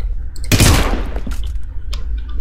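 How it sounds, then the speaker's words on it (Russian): A loud, booming blast erupts and rumbles away, followed by scattered fainter cracks and thuds of gunfire in a battle in the video game Hitman: Absolution. "Слышу взрывы неподалеку."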